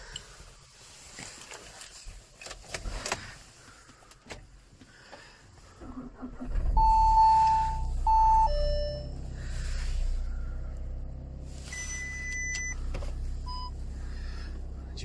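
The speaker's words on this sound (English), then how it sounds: "There's your park assist." A 2019 Audi Q3 2.0 TDI S Line S Tronic gives several short, clear park-assist beeps after its diesel engine starts, over a steady low hum inside the cabin.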